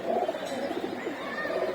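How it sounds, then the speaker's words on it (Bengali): A pigeon at a racing loft coos softly and nearby, a short low murmuring call that lasts the whole moment without any voices. "এই যে কবুতরটা"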